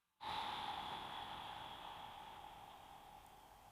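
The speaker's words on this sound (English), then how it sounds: "Very slowly. Very long. Let's exhale" A slow, deep exhale through the mouth, heard close and alone as a steady breathy rush that starts abruptly and fades gradually over several seconds.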